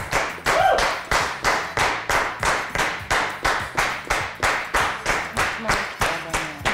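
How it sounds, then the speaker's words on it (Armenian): A group claps in a steady, even rhythm of about sixteen claps after tasting a dish at a cooking contest, with voices mixed in beneath the beat. "Ծափարությունները պետք են ուտելուց հետո"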